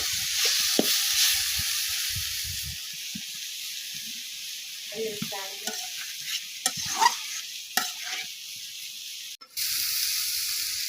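Spiced beef with potatoes and cumin powder sautés in a pan with a bright hissing sizzle, overlaid midway by several distinct stirring and scraping strokes and ending in a short sharp clatter, with no talking.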